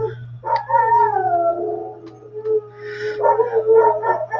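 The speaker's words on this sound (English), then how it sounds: "Every time an ambulance goes by, my German Shepherd start howling" German Shepherd dogs howl in long, wavering, overlapping cries after an ambulance passes, the drawn-out wails rising and falling close by for several seconds, with a steady low hum underneath.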